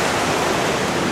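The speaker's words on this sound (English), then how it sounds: "We went from the waterfall and climbed up and around. You can hear it." A waterfall rushes in a dense, steady roar, close and loud, with no breaks over the short span.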